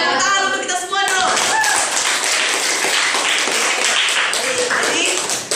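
Students in a secondary-school classroom clap together for a few seconds, a brisk, close burst of many hands with a voice speaking over the start.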